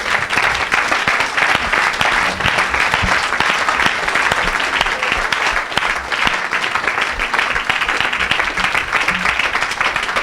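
A church congregation applauds the Lord during an evangelical worship service, and the dense, loud clapping continues steadily throughout.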